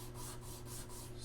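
Sanding blocks of 220 and 320 grit rub away hardened CA glue along a guitar fretboard binding, a quiet steady scraping in repeated back-and-forth strokes with a low background hum and no talking.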